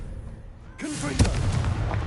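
The Confringo fire spell in Hogwarts Legacy lands with a sudden crackling blast and a sharp burst after a brief quieter moment, followed by rumbling debris and game noise, close and fairly loud.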